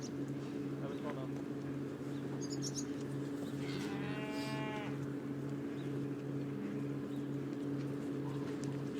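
A cow moos once in the middle, a drawn-out, moderately distant low call over a steady background hum, with faint clattering and brief sounds around it.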